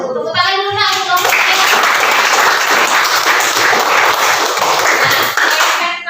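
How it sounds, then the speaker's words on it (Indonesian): A classroom of students claps for a presenting group, sustained loud hand clapping that starts after a brief moment of children's voices and continues steadily, with some chatter mixed under it. "Tepuk tangan dulu Nak untuk kelompok"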